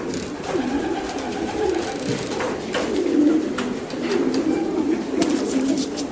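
A racing pigeon coos in low, soft repeated phrases, close by in a loft, with faint rustling and background noise throughout.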